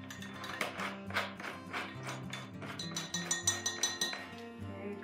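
Spoon clinking against a container while stirring a flower food mixture, a run of light metallic taps that quickens into a rhythmic burst near the end, over a low background hum.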